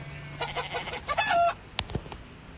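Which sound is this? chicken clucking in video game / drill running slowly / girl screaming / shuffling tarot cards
chicken clucking in video game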